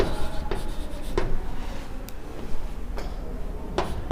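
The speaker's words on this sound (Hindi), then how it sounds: "तो यहाँ लिखता हूँ कि SN2" Marker or chalk strokes on a board during a chemistry lesson: a few short, scratchy bursts spaced apart, close and distinct over a low steady room hum, with no speech.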